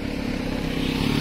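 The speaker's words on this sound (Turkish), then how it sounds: "Bu ne trafik arkadaş ya?" Busy street traffic in Japan, a continuous low engine rumble and drone of passing vehicles, motorcycles among them, steady and fairly close with no clear gaps.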